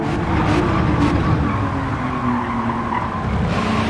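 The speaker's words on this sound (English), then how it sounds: "So I've shifted to 3rd gear, and then I went back into 4th gear, then instantly just, gave it all the power." A Volkswagen race car in Gran Turismo 7 drops to third gear and then goes back up to fourth. The engine drone is steady and close, with a brief tyre squeal at the start and sharp short breaks at each shift.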